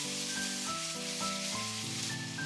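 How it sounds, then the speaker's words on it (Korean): Dumplings and kimchi stir-frying in a pot as the base for a potato dumpling stew, giving a steady, dense sizzle throughout, with a tonal melody of background music running over it. "전체적으로 어우러지게 볶아주시면 돼요."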